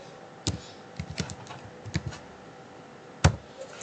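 Sparse keystrokes on a computer keyboard while a folder name is typed, a handful of quiet, close clicks with short gaps and one firmer tap near the end.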